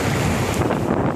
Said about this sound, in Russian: Океан бурлит.